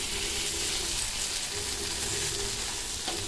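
Fish frying in a pan with a little oil, giving a steady, close, dense sizzle that runs unbroken without any talk.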